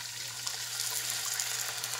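Chicken stock poured into a pan after garlic, an even watery splashing and trickle that runs steadily without pause, close and moderately loud, with no talking.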